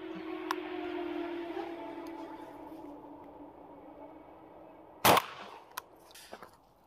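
A single sharp shotgun blast fired at a target from seven yards, loud and close, standing out after several seconds of quiet outdoor hum, followed by a few faint clicks.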